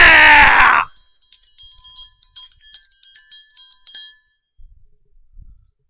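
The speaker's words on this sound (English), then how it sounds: "Come on, ring the bell." A bell rung repeatedly in quick strokes, bright metallic rings clustering over a few seconds after a loud shout at the start, then fading out to near silence with faint low thumps.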